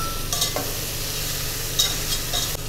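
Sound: sauteing lamb and vegetables with garlic in a pot

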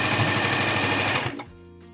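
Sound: sewing machine sewing an eye mask

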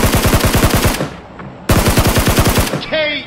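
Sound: gunfire in video game Peacekeeper Elite

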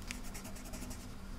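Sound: colored pencil coloring in hearts on paper

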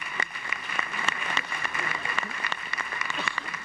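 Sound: welcoming applause at a seminar

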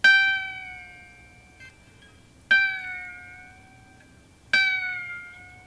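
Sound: harp imitating a cat meow

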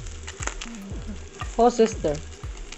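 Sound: garlic sautéing in a pan

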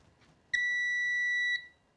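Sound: Seaward PrimeTest 250 PAT tester switching on

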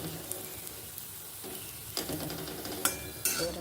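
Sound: potato and carrot frying in a pan

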